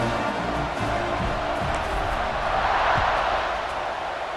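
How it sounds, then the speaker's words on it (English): A stadium crowd in EA Sports College Football 26 gives a steady, dense buzz of cheering and murmur after a score, filling the space evenly and without pause. "this crowd is buzzing after that last score"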